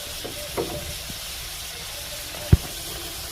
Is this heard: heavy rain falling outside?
no